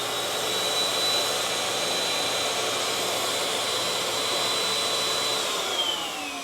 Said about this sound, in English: Simply press the button and the vacuum is activated.